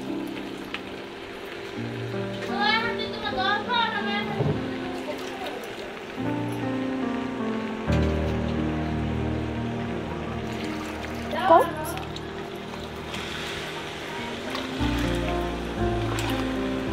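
Water is poured into a pot of chickpea biryani, making a continuous splashing, running-water rush that carries on under a voice talking nearby.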